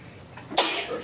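A single sharp, breathy sneeze bursts out close by after a moment of quiet room noise.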